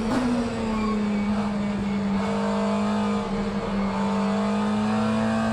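McLaren 720S GT3 engine in the racing game rFactor 2, a steady loud droning engine note holding a near-constant pitch, close and continuous with no talk.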